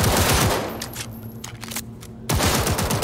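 Semi-automatic weapon fire in the video game Cyberpunk 2077, loud rapid bursts of shots at the start and again near the end, with a quieter stretch of background hum between them.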